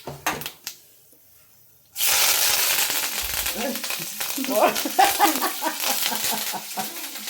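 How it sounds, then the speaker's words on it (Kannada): Mustard seeds hit hot oil while bisibele bath is being cooked, and after a few quiet clicks a loud, sustained sizzle bursts in with crackling pops and spits continuing close up. "ಈಗ ಒಂಚೂರು ಸಾಸಿವೆ ಹಾಕೋಣ. Wow, ಸಿಡಿದ್ರೆ super."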